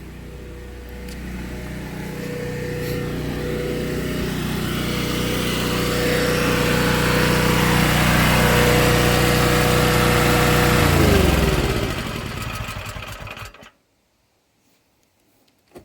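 An old Honda generator runs steadily at a loud, even engine drone, holding its note before winding down and cutting out near the end, leaving near silence.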